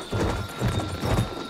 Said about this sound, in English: I ran up and took his horse.